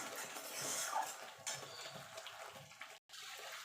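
Dried fenugreek leaves being stirred into a white, onion-free dum aloo gravy in a pan, a soft scraping and clinking of a spoon with faint wet sloshing, continuous and fairly quiet with one brief dropout near the end.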